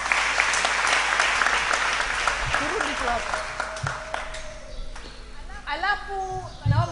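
A church congregation claps for a volleyball team that finished third. The applause is loud at first and thins out, and a voice and other sounds come through as it fades.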